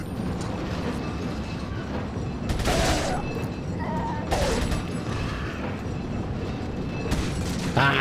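Gunfire from Resident Evil 4 gameplay: a few loud, broadband shots in separate bursts over about eight seconds, over a steady busy game soundscape with mechanical clatter.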